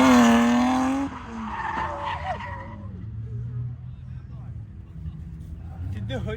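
A car drifts at a drift event, tires skidding in a loud, high squeal that fades after about a second into engine rumble, with another brief squeal near the end.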